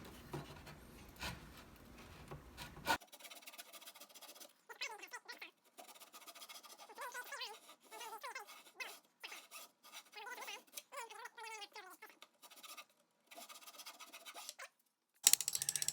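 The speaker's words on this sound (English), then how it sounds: "Now I'm just chiseling down the waist to get the tenon to about 1/2 inch in width" A chisel pares down a wooden tenon in short scraping and rasping strokes, close and fairly quiet, separated by gaps of near silence, with a stretch of background noise at the start.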